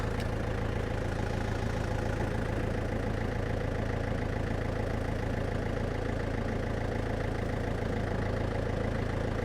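DTZ FN-1.6U rotary tiller driven at 540 rpm on a building site, a continuous loud engine drone with steady low rumble and constant mechanical hum, no pauses throughout.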